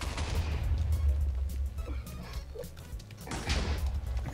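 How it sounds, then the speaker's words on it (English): Dense, continuous rumbling blasts from the video game Bomberman, explosions piling onto one another in a steady loud wash with no clear gaps, no talk. "Explosion after explosion."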